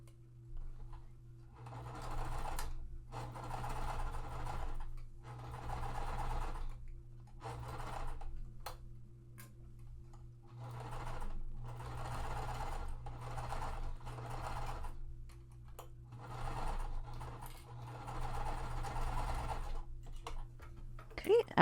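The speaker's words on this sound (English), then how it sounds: "And we're going to stitch this one." A sewing machine stitches quilt blocks in several runs of rapid, even whirring, each pausing briefly between seams, with a steady low hum beneath and soft handling clicks.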